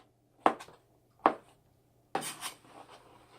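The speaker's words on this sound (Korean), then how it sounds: "반 잘라서 이렇게 썰어주시면 됩니다" A knife cutting ingredients for Korean squid stir-fry, with three separate sharp chops on a board, spaced apart and close, in a quiet kitchen.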